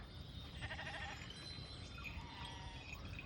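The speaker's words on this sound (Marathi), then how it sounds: "आणि हे बकऱ्या इथे आहे, ही बकऱ्या आहे पूर्ण" Goats and sheep bleat among a noisy flock travelling with a pilgrimage procession, overlapping calls over a steady rumble of movement and background commotion.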